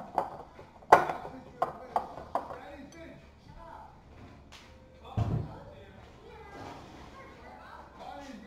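A utensil stirs in a cooking pot, giving a few sharp metallic clinks early on and then softer scrapes and knocks, with people talking over it.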